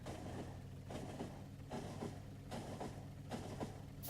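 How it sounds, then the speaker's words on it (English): A train runs in the factory-building video game Factorio, its wheels clacking in a regular rhythmic pattern of rail-joint beats over a steady rolling rumble, moderately close, with no talk. "I have a train running!"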